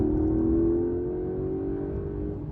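A Porsche 911 GTS hybrid (992.2) with the sports exhaust switched on accelerates with instant torque, giving a steady, close engine drone that rises slightly in pitch and stays loud throughout.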